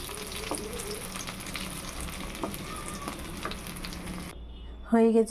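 Okra stuffed with masala frying in a pan, a steady close sizzle with small pops and crackles, cutting off near the end before a brief louder tonal sound.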